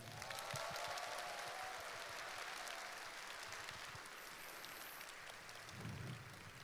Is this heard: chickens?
no